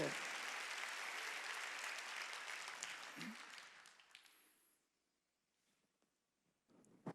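A church congregation claps together during a worship service, a dense loud wave of applause for about four seconds that thins into scattered claps and fades to near silence, with a brief burst of clapping again at the end.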